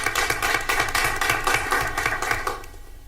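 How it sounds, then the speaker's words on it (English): A crowd at a school board meeting applauds steadily in a dense, continuous clatter of many hands clapping, filling the room for the whole stretch. "So let's give a round of applause for Ria Balani."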